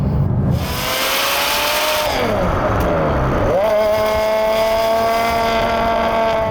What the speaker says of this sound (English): Now with the valves shut, I actually don't mind the noise too much, but for me, it's the wrong noise for a 599.